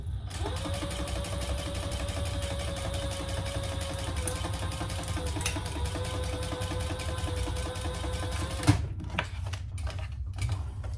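A Bernina sewing machine running a zigzag stitch, a close, fast steady whirring buzz for about eight seconds, then stopping with a clunk followed by a few quiet handling clicks.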